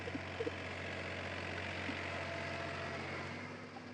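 An Airojet agricultural spraying machine engine running steadily at 2000 rpm: a continuous, even mechanical drone with a constant low hum, moderately near, with no talk over it.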